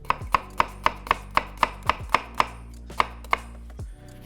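A knife finely chops a single onion on a board, making a quick, even series of about fourteen crisp, close thuds that slow slightly toward the end, with no voices.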